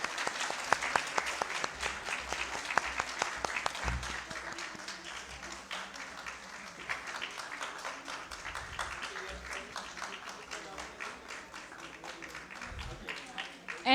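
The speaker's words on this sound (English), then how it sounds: "Please give her a big hand applaud." Conference audience at a surgical meeting applauding, a dense, sustained burst of many hands clapping in a hall, steady and moderately loud with a voice faintly audible beneath.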